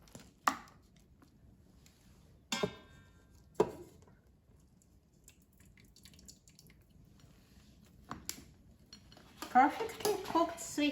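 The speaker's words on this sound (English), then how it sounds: "let me take the sweet potatoes out of the Instant Pot" Cooked sweet potatoes being lifted out of an Instant Pot, with a few sharp knocks and clatters of utensils against the pot spaced apart, then a burst of busier clinking and handling at the end, close and moderately loud.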